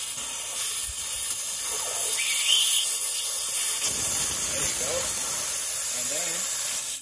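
Air hissing out of a vehicle tire through a tire deflator fitted on the valve stem, set up for beach driving with a 4x4: a steady broadband hiss that runs throughout, with faint talk underneath.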